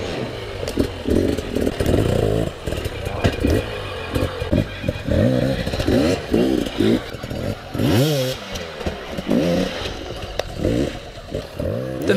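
Enduro motorcycle doing pivot turns over a raised log on a hard enduro training course, its engine blipping and revving in short choppy bursts with clatter, close and loud.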